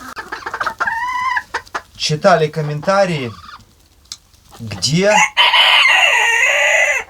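Hens cluck in bursts and a rooster crows loudly and close by, with the calls overlapping and someone speaking between them.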